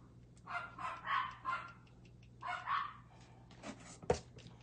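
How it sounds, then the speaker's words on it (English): Dogs barking outdoors at a squirrel up a tree, several loud bursts of barking in a few clusters with a sharp yelp near the end, over a steady low hum. "my dogs are outside barking"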